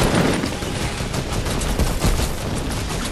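Dense, continuous video-game gunfire in a team shootout, sustained rapid shots running the full length at steady loudness with no gaps.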